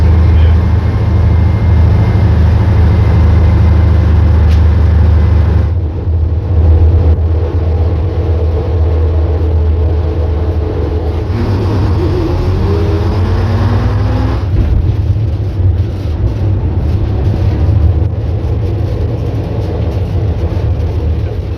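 A 1960s classic bus engine drones loud and steady from the downstairs seats, a deep continuous rumble with shifting tone as the vehicle runs along.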